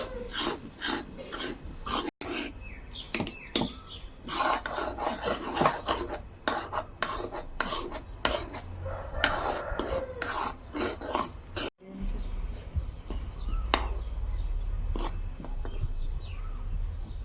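A ladle scrapes and rasps against a wok as semolina is stirred for gulab jamun, with repeated gritty strokes up close in an irregular rhythm and a brief pause partway through.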